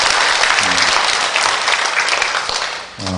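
A church congregation at a Korean children's dedication worship service claps vigorously in sustained applause, with a few voices briefly heard over the clapping near the start and end.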